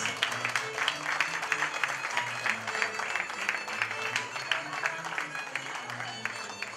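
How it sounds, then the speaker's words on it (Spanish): Guests clap at a birthday party for a woman named Rosa, steady applause mixed with background voices and music at a moderate level. "Fuerte los aplausos."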